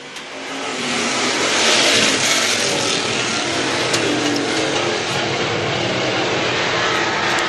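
Street stock race cars roar back to speed on a restart, a dense, loud wall of engines building and holding at full throttle with broad rumbling noise.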